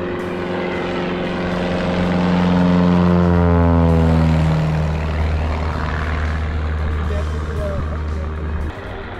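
Propeller plane buzzing low overhead in an Alaskan winter setting, a loud droning engine that swells as it passes and then fades away, with a Doppler pitch drop and people talking underneath.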